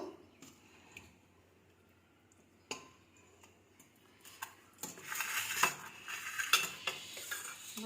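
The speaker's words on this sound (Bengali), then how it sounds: "এই যে আপনাদের দাদাকে ভাত বেড়ে দিচ্ছি" Rice being served onto a canteen-style metal plate, quiet scattered clinks and scrapes of a spoon at first, then louder clattering of dishes and cutlery in the later half.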